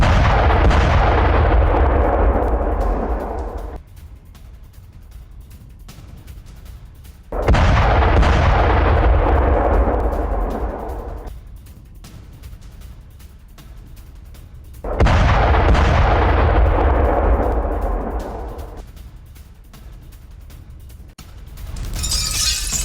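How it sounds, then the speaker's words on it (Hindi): Explosions from a Russian drone attack on Ukrainian soldiers laying mines near Kharkiv, with gunfire: three loud, heavy booms a few seconds apart, each rolling and decaying into a rumbling tail, with no talk. "खार्कोव में रूस ने ड्रोन से हमला किया। माइंस बिछा रहे यूक्रेनी सैनिकों पर हमला किया गया।"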